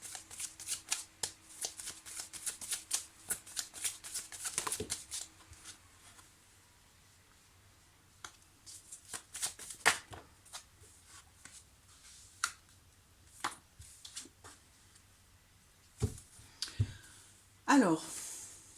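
Oracle cards being shuffled for a guidance reading, a rapid riffling flutter up close at first, then scattered soft card slaps and taps, with a brief voice near the end.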